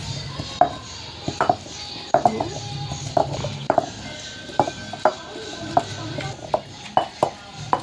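Onion chutney being ground by hand in a traditional stone mortar, a steady series of sharp knocks and scraping grinds repeating about every half second to second, close and fairly loud, with no talk.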